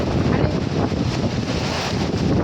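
A strong wind gusts through an evening storm, a loud, unbroken roar buffeting the microphone for the whole stretch, with no clear voices.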